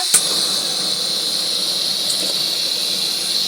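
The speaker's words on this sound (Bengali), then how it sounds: "এবারে আমি গ্যাসটাকে আবার ধরাচ্ছি গ্যাসটা ধরাচ্ছি" A sharp ignition click, then a steady, even hiss of a gas burner flame, close and continuous.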